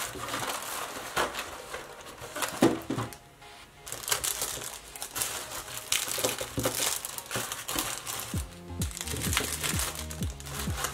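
Tissue paper crumpled and folded loosely into a cookie packaging box, a long run of close, crisp crinkling and rustling with a brief pause partway through.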